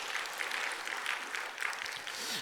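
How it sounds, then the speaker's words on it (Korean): Church congregation applauding a choir of about twenty singers during a Wednesday prayer service, a soft, dense patter of many hands spread evenly through the room with no break. "박수 한번 할까요?"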